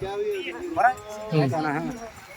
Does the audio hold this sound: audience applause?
no